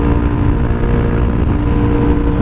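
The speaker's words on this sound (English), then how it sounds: "Listen to that engine." A Suzuki DRZ400 motorcycle engine cruises at about 75 mph, a loud, steady, unbroken drone with a constant pitch and no talk.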